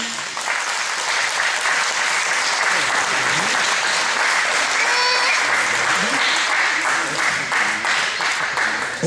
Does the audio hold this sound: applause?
yes